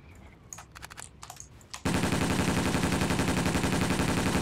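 Rapid automatic gunfire from a shooting video game, a sustained loud burst that starts abruptly after a few quieter clicks and shots and runs continuously to the end.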